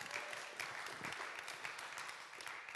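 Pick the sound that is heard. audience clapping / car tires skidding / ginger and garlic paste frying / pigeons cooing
audience clapping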